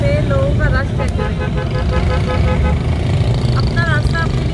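Busy street traffic in a Hyderabad market in Pakistan roars steadily, with repeated car and motorbike horn toots over the dense engine rumble, while people talk nearby.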